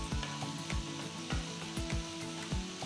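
Chopped tomatoes sauté in a hot pan for a garlic curry, giving a steady sizzle with repeated soft scraping strokes from a spatula stirring at an even rhythm, close and moderately loud.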